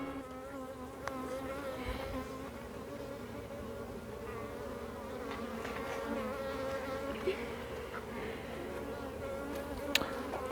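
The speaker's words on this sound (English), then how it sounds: "Bees are starting to fly off the comb and launch themselves at my face." Honey bees swarm around an open hive comb with a steady, dense buzzing drone that holds for the whole stretch, close and continuous, with individual bees zipping past now and then and no talk.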